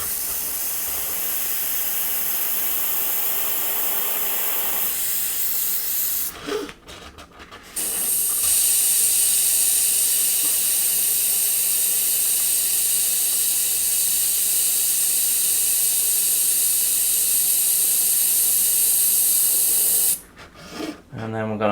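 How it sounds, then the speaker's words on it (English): Kaleido ColorWorks airbrush with a few drops of cleaner, giving a loud continuous back-blast hiss broken by two short pauses. "we're going to put a couple of drops of cleaner in and just give it a little back blast through"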